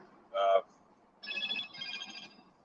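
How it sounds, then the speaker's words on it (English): A phone ringing with bright electronic tone bursts, one short ring followed by a longer two-part ring, close and fairly loud outdoors in the mountains. "Oh, there's my decoy phone going off"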